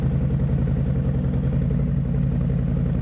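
A motorcycle engine on light throttle as the bike rolls up a loading ramp gives a steady, close, low-pitched rumble with an even, pulsing beat that holds constant throughout.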